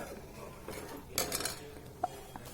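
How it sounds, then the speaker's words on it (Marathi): A metal spoon clinks and scrapes against a pan while stirring sugar into milk for basundi, a few quiet, sharp taps with soft rustling between them. "आता आपण ही असं सतत हलवून विरघळणार आहोत"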